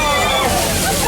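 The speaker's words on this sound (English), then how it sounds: "This flash flood here is produced by using thousands of gallons of recycled water pumped to the top of the hill, then released on cue." Released recycled water surges down a hill in a staged flash flood effect at Universal Studios Hollywood, a loud close rush and slosh of water filling the brief moment.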